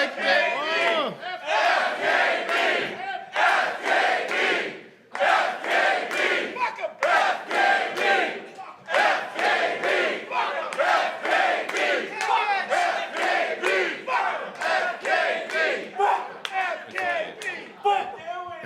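A small crowd chants FKB over and over in loud, rhythmic bursts of shouting voices, with brief pauses between repetitions.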